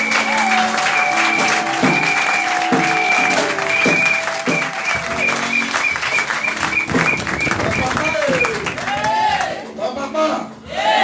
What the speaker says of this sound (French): Maintenant, acclamons Jésus pour ça.